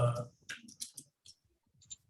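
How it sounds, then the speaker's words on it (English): Someone types on a computer keyboard, making a close, sparse run of sharp clicks in irregular bursts separated by short silences. "I'm typing in group"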